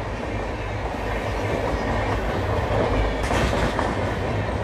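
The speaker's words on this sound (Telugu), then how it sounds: "ట్రైన్ వస్తుంది." The Kondaveedu Express rolls past near Mangalagiri with a steady, loud rumble of wheels and carriages and faint clickety-clack over the rails.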